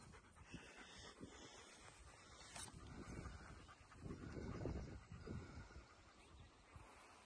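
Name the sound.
dogs in the background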